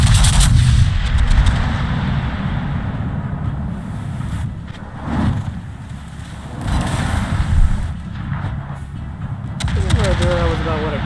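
A salvo of heavy naval guns booms from the Pommern battleship in World of Warships, with deep rolling blasts and sea rumble filling the clip and a louder burst about halfway through, and someone talking over it.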